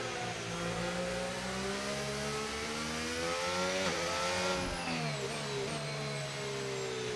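Race car engine from the F1 25 game with a McLaren nearby, a steady loud high-pitched drone with harmonic whine that sweeps up and down as it revs and shifts, running continuously without talk.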